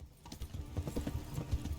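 Horse hooves gallop in the video game Kingdom Come: Deliverance, a quick, steady clip-clop rhythm that carries through the whole moment at moderate loudness with no voice over it.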